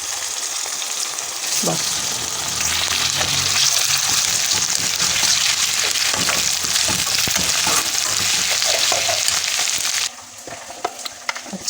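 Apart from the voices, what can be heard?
cumin, nigella and fenugreek seeds sizzling in oil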